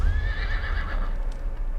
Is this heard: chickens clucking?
no